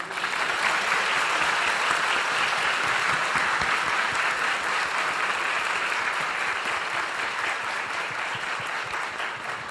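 A church congregation gives a sustained round of applause for worshippers who came forward, dense clapping from many hands filling the room at an even, loud level for about ten seconds.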